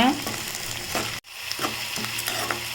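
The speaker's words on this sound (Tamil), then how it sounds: "கருவேப்பிலை சேர்த்துக்கோங்க சேர்த்து அதையும் நல்லா வதக்கிக்கோங்க" Onion, cashews and curry leaves sautéing in a pan for carrot rice, a steady close sizzle of frying with stirring scrapes, briefly cut off once mid-way.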